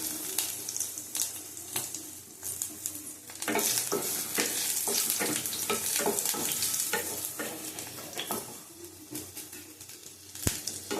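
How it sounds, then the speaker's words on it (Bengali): Black cumin seeds and dried red chillies fry in hot oil, crackling and spitting steadily up close, with frequent scraping and stirring strokes in the pan. "ভেজে নেবো এগুলি।"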